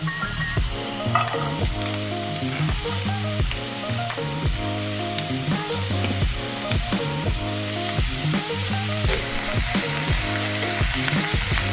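Onions fry in coconut oil in a pan for a Kerala-style kadala curry, making a constant crackling sizzle close up, joined by a repeating rhythmic musical pattern throughout, with no talk.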